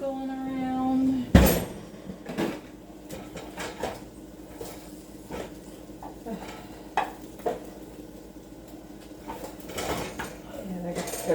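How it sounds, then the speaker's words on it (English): A pan of fish goes into a kitchen oven with a sharp metallic clang, followed by scattered clinks, knocks and clatters of dishes and cookware over a faint hum. "I'm putting this fish into the oven"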